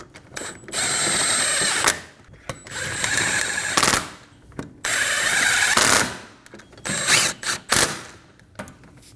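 Ratchet or power tool snugging the rear wheel bearing bolts down in a cross pattern on a 2008-2015 Scion xB, giving close mechanical whirring and clicking bursts in several separate runs with gaps between them.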